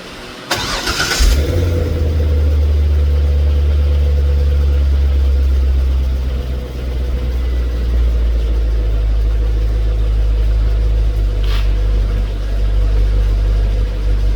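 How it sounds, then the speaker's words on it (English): A C5 Corvette fitted with exhaust cutout bypass valves cranks over with a brief burst of starter noise, then settles into a loud, steady, deep idle rumble, close by with no talk. "Now we'll crank the car up."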